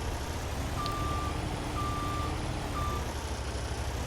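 Reversing beeps from a skid steer in Farming Simulator 22, three evenly spaced, steady electronic tones sounding over a constant rumbling engine drone.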